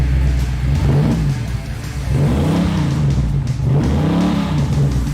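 A fuel-injected 502-cubic-inch V8 in a 1969 Chevrolet Camaro SS idles with a deep burble, then revs up and falls back twice, loud and close, no talking.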